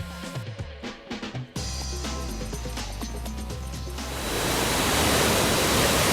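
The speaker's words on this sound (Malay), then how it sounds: "inilah dia air terjun Cemerung yang dikatakan antara yang tertinggi di Asia Tenggara ni" Cemerung waterfall, one of the tallest in Southeast Asia, roars as a loud steady rush of falling water, swelling louder toward the end with no talk over it.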